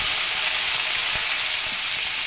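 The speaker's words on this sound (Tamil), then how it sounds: "கடுகு பொரிஞ்சிருச்சு. கொஞ்சம் கருவேப்பிலை போட்டுறேன்." Mustard seeds and curry leaves sizzle steadily in hot oil at close range, a dense continuous frying hiss with a few soft pops and no voices.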